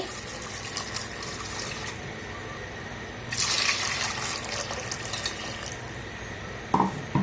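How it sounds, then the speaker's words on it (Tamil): Water is poured steadily into a cooking pot for tomato rice, a continuous splashing pour that grows fuller midway, ending with a couple of clinks. "இப்போ நம்ம தண்ணி அளந்து ஊற்றிக்கலாம்."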